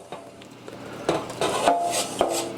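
Scraped beef and shallots with herbs being added back into a pan, producing scraping, clinking and rubbing of a utensil against the pan in uneven strokes, close and moderately loud, with no talking.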